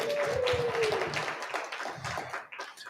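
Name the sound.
audience applause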